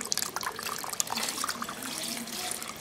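Tap water runs steadily over bean sprouts being rinsed clean in a kitchen sink for spring rolls, a continuous close splashing hiss without pauses.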